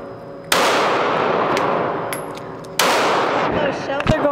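Gunshots fired at an outdoor gun range, two loud sharp reports spaced a couple of seconds apart with ringing decay and metallic clinks of ejected shells, with faint talk in between.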